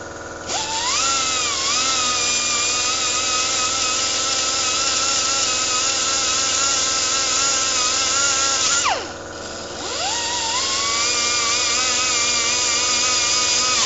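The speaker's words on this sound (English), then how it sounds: "Sorry about my compressor, it's pretty loud" A loud air compressor runs continuously nearby with a high, whining motor tone that shifts pitch, briefly dips around the middle, then climbs back to a steady drone, with no talking.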